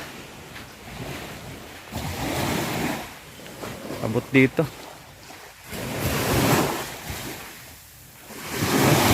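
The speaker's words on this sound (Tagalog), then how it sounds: "Sobrang lakas ng agos pa." Sea waves and a strong current at the shore wash and roar in broad swells that rise and fall every couple of seconds, with wind buffeting the microphone and a brief spoken remark in the middle.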